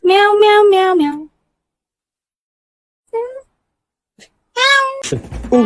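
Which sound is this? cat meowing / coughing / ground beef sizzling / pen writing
cat meowing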